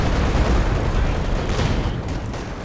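Dense battlefield gunfire and explosions from a Company of Heroes 2 4v4 match firefight, a loud continuous clatter of shots and booms, with a commentator's voice over it.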